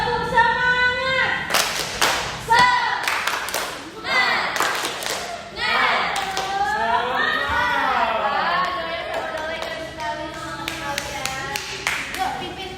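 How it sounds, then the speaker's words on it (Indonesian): Children in a classroom lesson doing a rhythmic spirit clap, several sharp bursts of group clapping in quick patterned sequences, interspersed with children's voices chanting and chattering nearby. "Tepuk semangat."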